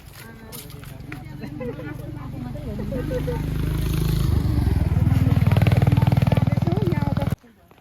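A motorcycle engine revs and rumbles up close, growing louder as it jolts over a rough, bumpy road to Nuwakot, Nepal, with someone talking over the noise.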